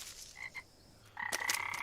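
Cartoon frogs in an animated fantasy series croak in short bursts, a few sharp nasal calls early, then a louder cluster of overlapping croaks, close and clean.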